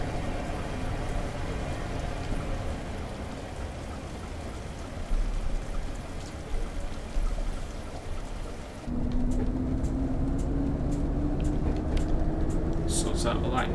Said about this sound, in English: Now as we depart, another train passes through.